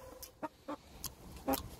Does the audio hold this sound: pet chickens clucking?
yes